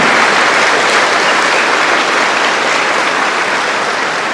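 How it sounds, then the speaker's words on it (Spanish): A large audience gives a priest a loud, continuous ovation, the clapping thick and steady throughout with no talk over it. "vamos a darle un aplauso al padre por ese conocimiento que tiene"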